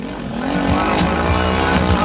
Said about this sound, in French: Le moteur qui tourne